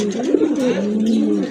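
A pair of fancy pigeons coos up close, with soft rolling, wavering calls repeating one after another against a quiet background.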